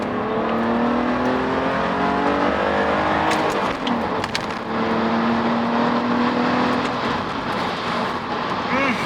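BMW E46 engine pulling hard at high revs during a drive, a loud rising and falling whine heard from inside the car, with a brief voice in the middle.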